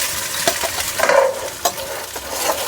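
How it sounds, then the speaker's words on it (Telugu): Cooked rice being stirred into a tempering in a pan for lemon rice, with a spoon scraping and tossing in irregular strokes over a soft sizzle, close and fairly loud, no voices. "పోపు అంతా ఫస్ట్ అన్నంకి కలుపుకోవాలి."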